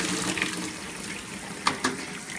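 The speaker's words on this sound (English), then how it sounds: "This hot water here also comes out, and it's really hot." Hot water runs steadily from a kitchen sink tap in a Japanese home, a continuous close splashing hiss with a couple of brief clinks near the end and no talking.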